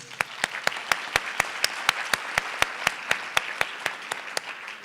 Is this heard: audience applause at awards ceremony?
yes